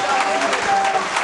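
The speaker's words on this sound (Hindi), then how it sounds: "दोनों हाथ ऊपर उठाकर के तालियां बजाएं सभी लोग।" A seated crowd at a religious discourse claps with both hands raised, a dense, even wash of applause filling the short moment with a voice briefly audible beneath it.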